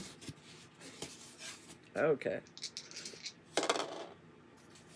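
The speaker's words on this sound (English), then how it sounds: "so let's roll these dice." Small dice clatter and rattle on a hard surface in a quick burst, followed by another brief tumbling rattle a moment later, close and fairly faint, with a short word of speech nearby.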